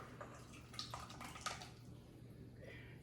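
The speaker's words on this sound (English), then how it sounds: "Then I'm gonna just pour it into a little strainer here." Canned tomato liquid drains through a small kitchen strainer, a soft trickle with a few light drips and splashes, close and quiet.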